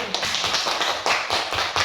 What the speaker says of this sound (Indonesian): Nah, tepuk tangan untuk kelompok 1.